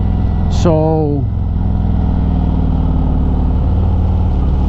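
A Harley Road Glide Special motorcycle engine runs steadily and close throughout while riding through mountains, with a brief rising rev near the start; someone speaks a single word over it.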